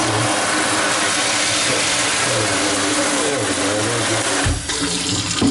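Loud, continuous rushing water from a hose with strong water pressure, steady and close, with a brief change in the flow near the end.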